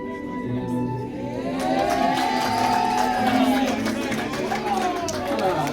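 Crowd at a basketball game in the BAL Sahara Conference cheers and roars steadily and loudly, with a sustained swell of voices and arena noise beneath someone talking over it.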